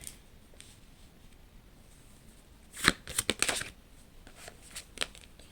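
Tarot cards are shuffled and pulled in a short, close burst of crisp riffling and flicking snaps after a quiet stretch, then a few lighter card taps.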